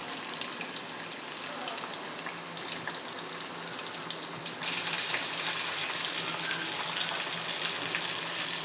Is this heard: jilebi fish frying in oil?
yes